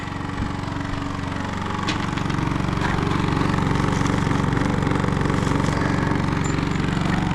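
A Honda engine runs outside a shop, giving a steady, loud mechanical drone with a low rumble that holds unbroken from start to finish.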